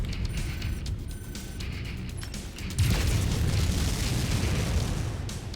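Indirect-fire explosions rumble through a battle in the video game MechWarrior 5, a dense, continuous low roar of blasts that swells sharply midway and stays heavy to the end, with no voices over it.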